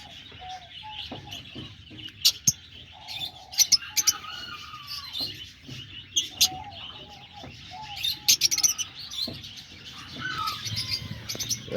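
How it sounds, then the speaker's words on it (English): Pet birds including diamond doves call around an aviary, with a steady mix of short chirps and tweets plus soft cooing, some close and sharp, others fainter in the background, with no talk. "There's the diamond doves."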